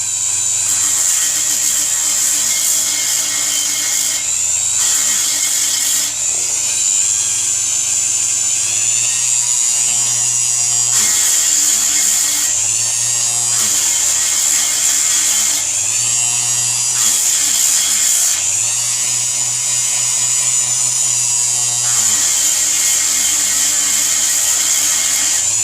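A power tool spins at about 700 RPM to buff a scratch out of a Big Dog motorcycle front wheel, giving a loud, steady high whine whose pitch dips and shifts in repeated passes as pressure changes.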